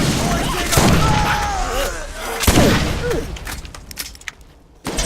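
Carnage guns firing in Borderlands 1: a few heavy booming blasts spaced seconds apart, loud and close, over busy game noise with a voice-like tone in between.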